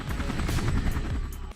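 Military helicopters strike enemy positions during an assault, a dense continuous roar of rotors and engines mixed with rapid rattling bursts like machine-gun fire, loud and unbroken throughout.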